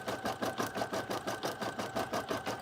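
An embroidery machine runs a slow stitch on a towel, its needle thumping in a steady, even rhythm of roughly five strokes per second, close and clear with a faint constant whine over the mechanical clatter.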